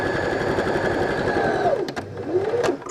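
A sewing machine runs a rapid, steady zigzag stitch on the fabric of a doll's shorts, a close mechanical whirring hum that slows and stops near the end.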